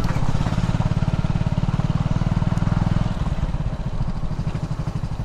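Motorcycle engines run in the bike parking area at Jatayu Earth's Center, a close, throbbing idle that shifts pace partway through and stays loud.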